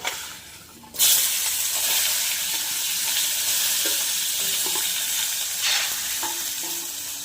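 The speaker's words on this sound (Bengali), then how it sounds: "এবারে কাংড়াটা একটু ওই ভাজা করবো" Crab seasoned with salt and turmeric fries in hot oil in a pan, a loud steady sizzle bursting in after a quiet second and running on with occasional stirring clicks and scrapes.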